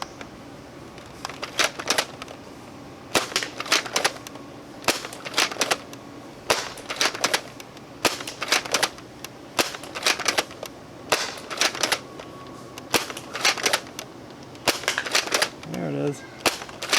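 Detroit Dart Works Accu-Nub PCAR dart blaster firing, sharp snapping shots in quick clusters of two or three, repeated steadily with short gaps between groups, close and fairly loud.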